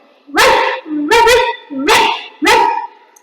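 A performer at the Kozhikode district school arts festival mimicry event mimics a dog with four loud, evenly spaced barks, each a short yelping woof, up close with nothing else around.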